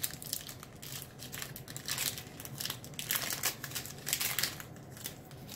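Foil wrapper of a Yu-Gi-Oh card pack from a Mystery Power Box crinkles and crackles as it is torn open. The crinkling is continuous and close, coming in bursts with no talking.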